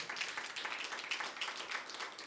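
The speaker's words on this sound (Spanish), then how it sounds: "¿Cuántos le podrán dar un aplauso fuerte al Señor?" Steady, dense applause from a crowd, continuous clapping at a moderate distance with no pauses.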